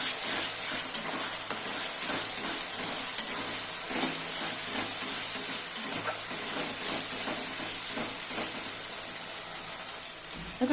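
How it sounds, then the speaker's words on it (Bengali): Onions with turmeric, salt and spices sizzle steadily in a pan for Bengali-style alu mutton kosha, with repeated scraping stirring strokes throughout and no one talking. "এবার ভালো করে কষিয়ে নেব।"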